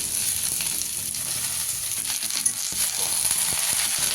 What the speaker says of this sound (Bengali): সবজিটা কিছুক্ষণ ভাজা হয়ে এলে তাতে অ্যাড করব জল ছড়িয়ে রাখা কুচনো বাঁধাকপি